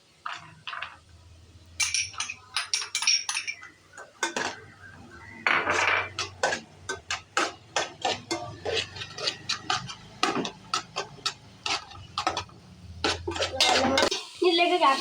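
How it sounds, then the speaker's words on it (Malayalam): Carrot pieces go into a pan for a macaroni dish and get stirred, producing repeated sharp metal spoon scrapes and clinks against the cookware in uneven bursts with brief sizzle between. "ഇനി ക്യാരറ്റ് ഇട്ട് കൊടുക്കാം."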